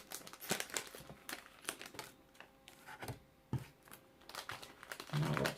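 The top of a urea bag is cut open, giving close, irregular plastic crinkling and rustling in short bursts, with a louder crackle at the end. No one speaks.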